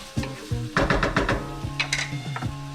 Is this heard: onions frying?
yes